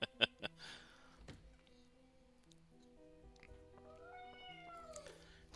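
A house cat named Lance meows near the start of a quiet scene with a game of Clue playing in the background, followed by faint tonal game sounds and a brief rising cry.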